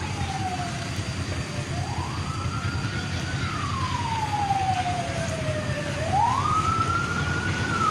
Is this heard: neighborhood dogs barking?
no